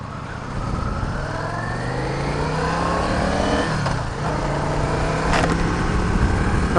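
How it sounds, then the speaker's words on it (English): A 2007 Yamaha V-Star 650 Classic motorcycle is ridden on the road, its engine droning steadily and rising in pitch as it accelerates, with a brief dip and a passing vehicle whoosh around the middle, close and loud throughout. "this bike has no problem getting up to highway speeds"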